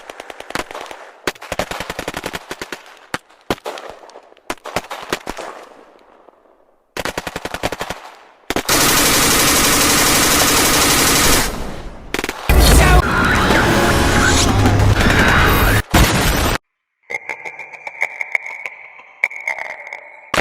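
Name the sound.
gunfire, machine guns firing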